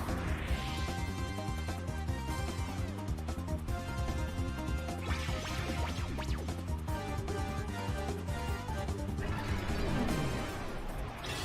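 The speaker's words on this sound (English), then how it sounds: "A smashing blow." A smashing-blow attack effect from a Pokémon battle game in a Metronome tournament, repeated hits and crashes laid over dense, continuous battle music that runs loud throughout.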